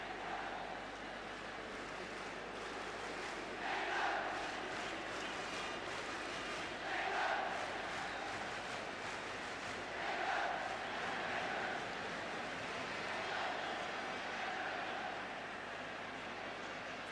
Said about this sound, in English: And the crowd entitled to be as upset as they are.